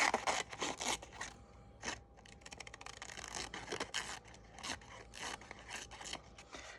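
Scissors cut paper for a vintage French-themed junk journal, with a quick series of crisp, close snips and rasping slices, some in rapid bursts, with no speech.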